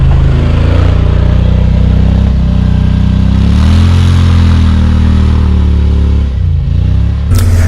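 Engine of a 2020 Yamaha Wolverine X2 XTR side-by-side in two-wheel drive, climbing an off-road obstacle: loud, close, continuous engine drone that rises and falls in pitch as the throttle changes.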